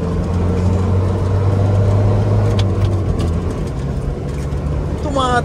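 A diesel six-wheeler truck at a car meet accelerates with a loud, rising engine drone that climbs and drops between gears, close by, with a person talking over it.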